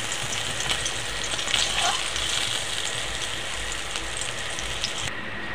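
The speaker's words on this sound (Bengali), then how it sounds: "এরম করে পুরো মাছটাই ভেজে নেব।" Fesa fish fry in oil with a steady, dense crackling sizzle and small bubbling pops, close and continuous throughout.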